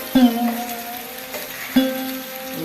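Gooseberry instant pickle is gently stirred in a metal vessel, and a spoon strikes the rim twice, each knock leaving a clear ringing tone that fades over a soft wet stirring sound, with no speech.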